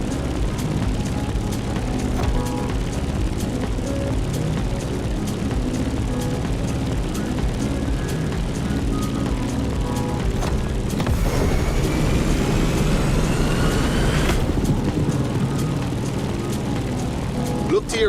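Propeller aircraft engine drones steadily while climbing in the racing game The Crew Motorfest, a loud continuous hum with music and game effects layered over it.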